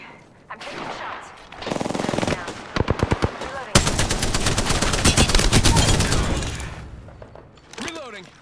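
Heavy automatic gunfire rattles in Apex Legends, loud and close, with bursts of rapid shots, a clipped pause, then a long sustained volley that tapers off, ending in a short reload-like clatter.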